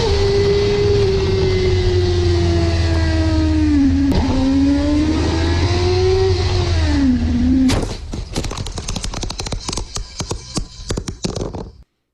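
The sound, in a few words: motorbike at extreme speed crashing into a stationary truck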